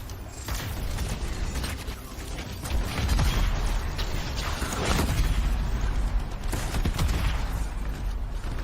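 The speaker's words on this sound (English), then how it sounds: "That explosion was fun." Explosions in the video game Anthem, a dense, rumbling roar of blasts and crackling debris that swells and stays loud for several seconds.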